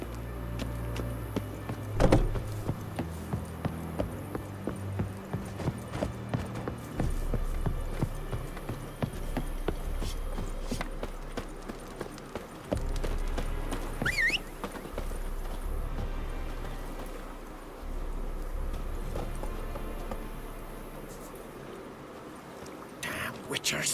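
Roach the horse gallops in The Witcher 3: Wild Hunt, a steady run of hoofbeats pounding through nearly the whole stretch under game music, with voices talking over it at times.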